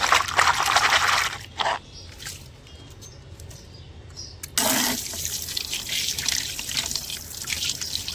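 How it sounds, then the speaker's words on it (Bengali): Hands are washed under a running tap, with two noisy bursts of splashing water separated by a quieter stretch of faint trickling and dripping. "হাত ধুয়ে ফেলি"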